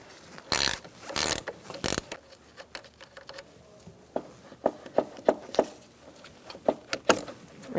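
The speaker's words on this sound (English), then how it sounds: "Remove your negative battery terminal using an 8mm wrench." An 8mm wrench working loose the negative battery terminal on a Ford Expedition, a series of sharp ratcheting clicks and metallic taps in irregular bursts, close and fairly quiet.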